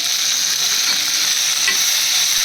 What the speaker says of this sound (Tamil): வதக்கிப்போம் வெஜிடபிள்ஸு. வதங்கட்டும்.